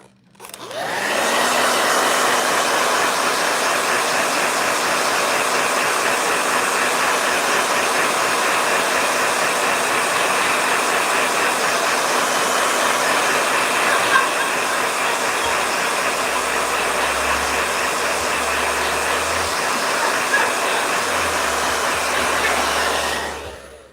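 A blow dryer starts up and runs at a loud, steady whir with a constant airy rush and a faint tonal hum, continuing unbroken before cutting off at the end.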